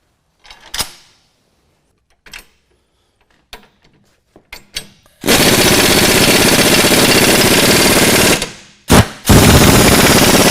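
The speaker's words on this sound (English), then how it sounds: "Now we're going to install our sandwich plate and tighten our bolts down." Tightening bolts on a sandwich plate during a truck lowering kit install: a few scattered clanks and taps, then a loud sustained buzz from a power tool running close, broken by brief stops and restarts.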